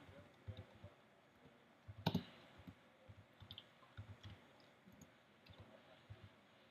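Scattered soft clicks and taps on a computer keyboard in irregular bursts, with one louder clack near the start; quiet and close.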